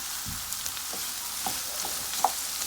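Red onion sautéing in a pan with mushrooms and garlic butter makes a continuous close sizzle, dotted with a few light taps and clicks from stirring, with no talking.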